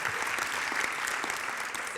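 Audience applause at a French public talk on European education policy, a steady, dense wash of clapping from a sizable crowd filling the whole moment with no voices over it.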